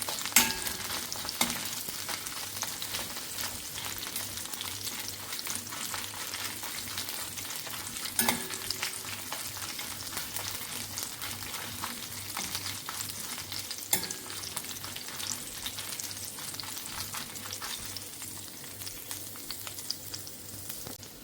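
Five dried, mild piriyan red chillies fry in oil in a pan for Kerala-style vendakka (okra) curry, a continuous close crackling sizzle with occasional light clicks of stirring, steady and moderately quiet throughout.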